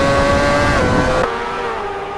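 A race car engine at Silverstone in a sim racing game drones loudly and steadily in a high, tonal whine, dropping briefly in pitch mid-way as the driver backs off, with no voices.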